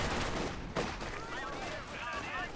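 Machine gun fire from a Maxim in a strategy video game battle, a steady rattle of shots with other battle noise, under continuous commentary.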